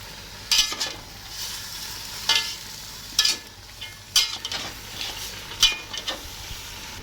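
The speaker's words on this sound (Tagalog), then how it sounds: "Halo-haloin lang natin." A spoon stirs mung beans in a cooking pot, giving several sharp scraping clinks at irregular intervals over a low background simmer, with no voices.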